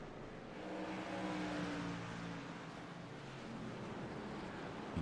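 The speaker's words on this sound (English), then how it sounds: "Gonna see a long train of single file trucks here tonight putting down the laps." Racing trucks in a WallBangers Racing Truck Series event lap the track in single file, a steady engine drone with rising revs that swells and holds at moderate distance, without talk.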